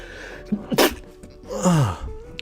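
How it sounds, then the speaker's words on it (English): A person sneezes up close: a sharp inhaled gasp, a burst, then a drawn-out voiced exhale tailing off. "I believe I have to sneeze."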